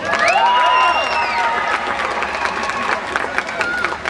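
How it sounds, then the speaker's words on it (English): A crowd at the Armageddon Sydney 2011 convention applauds and cheers a contest winner, loud at first with high whooping voices, then settling into a steady clatter of clapping. "Round of applause, winner!"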